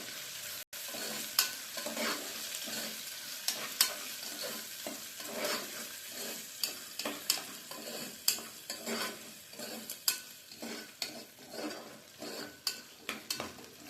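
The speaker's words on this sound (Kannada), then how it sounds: "ಆನಿಯನ್ ಸ್ವಲ್ಪ ಫ್ರೈ ಆಗಲಿ." Onions fry in a pan for bisibele bath while a spoon stirs them, a soft steady sizzle broken by repeated scraping clinks of the spoon against the pan, close and without talk.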